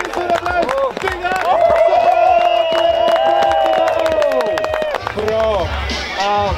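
A crowd at a freeride ski competition in Røldal claps, cheers and whoops at close range, with a sustained cheering voice rising above steady applause and a commentator talking over the noise throughout.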